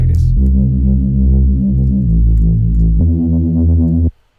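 The Kung Fu imitation preset in Serum plays a loud, sustained synth tone that steps through three held notes, each with a rich buzzy harmonic stack, then stops abruptly.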